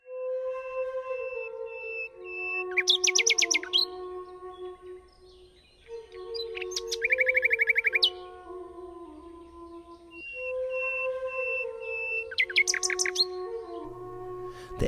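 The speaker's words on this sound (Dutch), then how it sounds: "De echte nachtegaal zat op een tak voor een open raam te zingen." A nightingale sings clear whistled notes broken by rapid, buzzy trills, in three separate phrases with short pauses between them.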